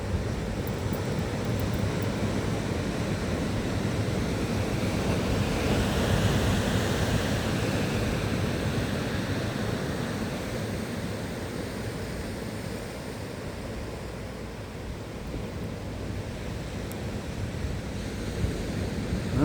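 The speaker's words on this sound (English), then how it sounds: "They do have some good waves out there today." Ocean surf rolls in steadily at Malaga Cove, a continuous wash of breaking waves with light wind noise, fairly loud and unbroken throughout.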